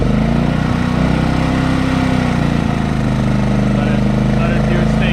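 An off-grid camp generator with its eco throttle off runs loud and close, a steady droning engine hum with a slight change in tone partway through.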